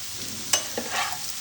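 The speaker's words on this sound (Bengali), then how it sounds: "দেখবেন ভাজার সময় নাড়া দিলে তারপরে মিষ্টি কুমড়ার রংটা সুন্দর হবে।" Sweet pumpkin pieces fry in a pan while being stirred, a soft sizzle with a couple of quick scraping clicks from the spatula, close and brief.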